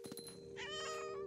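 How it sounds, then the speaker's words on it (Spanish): A cat meows in the video game What Remains of Edith Finch, one drawn-out, rising-and-falling meow heard alone and fairly close, with no talking over it. "Ese sonido que hacen los gatos."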